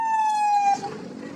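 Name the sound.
police car siren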